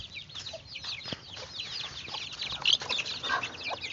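Chickens cluck in a farmyard, a steady scatter of short, bright calls overlapping one another at moderate distance over faint background noise.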